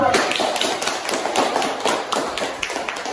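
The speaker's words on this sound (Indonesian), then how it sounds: "Ya, tepuk tangan dulu." Classroom audience clapping during a teaching session, dense steady applause of many hands close by, continuous throughout with faint voices underneath.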